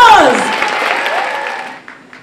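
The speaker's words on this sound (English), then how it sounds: "Let's give them another round of applause!" Clapping from an audience at a Face of Freedom 2010 model show, a fairly loud round that fades away, with a voice sounding over the start.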